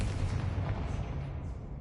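Confringo fire spell blast in Hogwarts Legacy, a loud, sustained booming rumble with heavy low-end roar that holds steady for about two seconds, with no voices.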